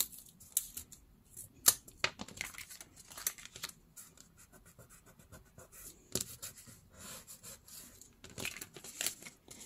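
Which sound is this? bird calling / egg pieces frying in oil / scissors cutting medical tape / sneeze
scissors cutting medical tape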